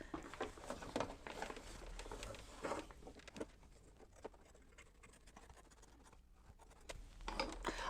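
Curved scissors snipping through quilting fabric and batting on an in-the-hoop mug rug, soft close scratchy cuts and rustling in an irregular patter, quiet with no talking.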